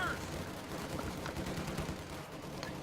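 Rapid machine gun fire from an MG position in the World War II strategy game Company of Heroes 2, a steady rattling burst of shots heard over continuous battle noise throughout.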